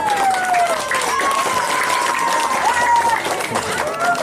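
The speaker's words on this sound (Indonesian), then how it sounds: "Sok tepuk tangan." Audience clapping at a Banten traditional arts gathering, a continuous patter of hands under whistling or tonal calls and some crowd noise, fairly loud and close.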